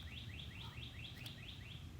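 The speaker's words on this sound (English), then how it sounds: "Oh guys, I love the birds." Birds chirp in a fast, regular series of short high tweets over a low background hum, faint and steady.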